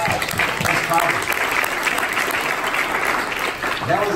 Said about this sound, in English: That was a light clap.